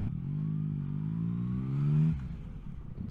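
A motorcycle engine revs steadily and close, its pitch climbing to a peak before dropping off abruptly, with no talk over it.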